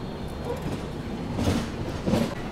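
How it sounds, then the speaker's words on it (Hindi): The Rajdhani Express rolls into platform 14 of New Delhi railway station, heard from inside as a steady rumble with rising clatter and brief metallic squeals of wheels on track near the end. "न्यू दिल्ली रेलवे स्टेशन के प्लेटफॉर्म नंबर 14 पे हमारा अराइवल हो रहा है"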